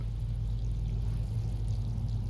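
A small water fountain set out for a bee runs steadily, giving a continuous, even splash and trickle close by with no talking.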